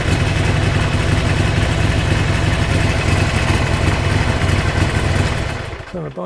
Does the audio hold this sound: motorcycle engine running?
yes